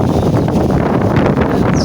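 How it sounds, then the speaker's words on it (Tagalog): Strong wind on a hiking trail buffets the microphone with loud, continuous low rumbling and roaring, no voices. "Kasi malakas ng hangin."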